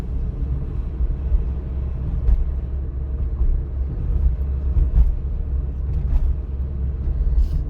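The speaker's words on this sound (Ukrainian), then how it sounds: "Верніше, переключаюсь на третю швидкість." A car engine rumbles low and steady from inside the vehicle while shifting into third gear on city streets, a continuous close drone with faint road noise and no clear gear-change event.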